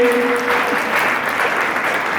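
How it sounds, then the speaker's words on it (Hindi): Loud, close applause fills a hall as a guest is called to the stage at an alumni and parents meet. Many hands clap in a dense, steady roar, and a brief voice-like tone appears at the start. "जोरदार तालियां देवेंद्र जी के लिए"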